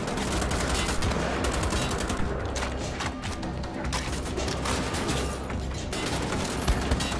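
Continuous dense gunfire from the video game Wolfenstein: The Old Blood, a steady roar of overlapping shots with no pauses, loud and busy throughout.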